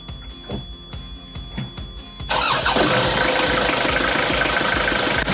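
A boat's starboard marine engine cranks with a few clicking turns, then catches and settles into a loud, steady rumbling idle close by.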